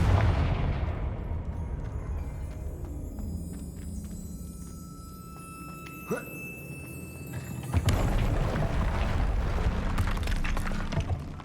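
Confringo fire spell in Hogwarts Legacy: crackling, rumbling fiery blasts with a short sharp burst in the middle and a stronger explosion shortly after, over steady low background roar, with a voice heard faintly.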